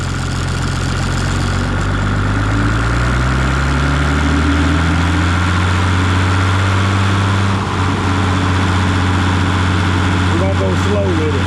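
A farm machine's engine idles at low RPM, a steady deep mechanical drone with a faint shift in pitch partway through, heard close and continuous.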